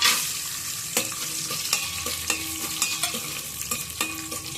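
Cashews and dry fruits fry in three spoons of ghee for vermicelli kheer, a bright steady sizzle under repeated close scraping stirs of a spoon against the pan.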